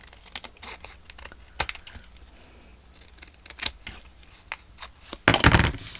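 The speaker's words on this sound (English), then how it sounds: "So I'm going to go ahead and trim that up." Scissors trimming paper journal ephemera, a string of crisp close snips and paper rustles with a louder burst of cuts near the end.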